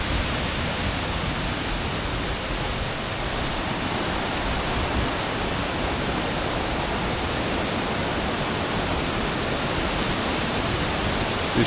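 A waterfall roars as a steady, dense rush of falling water that never changes in loudness across the whole stretch, with no voices or other sounds above it.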